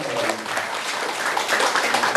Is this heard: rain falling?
no